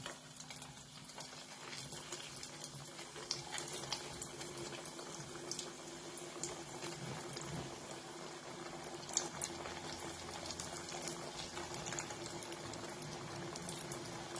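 Methi khari frying in hot oil over a medium flame, a faint, continuous bubbling hiss with small crackles, steady and soft, heard up close without talk.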